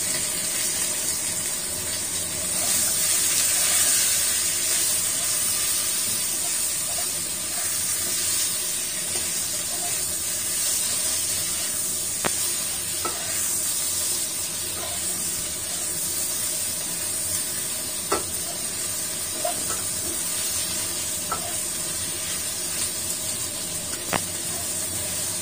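Beef with garlic stir-fries in a pan, giving a steady loud sizzle and hiss that runs throughout, with a few faint clicks of a utensil against the pan.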